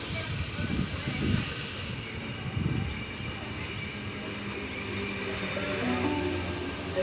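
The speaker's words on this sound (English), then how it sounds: "Cronulla service now arriving into platform number 4, T95 being the front 4 cars." A Cronulla-bound suburban train, set T95, rolls into platform 4 at a Sydney-area station with a low, steady rumble and hum, while a station announcement plays over it.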